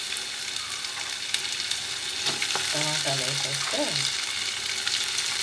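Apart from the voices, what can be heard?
tomatoes frying and sizzling in a pan for dried fish curry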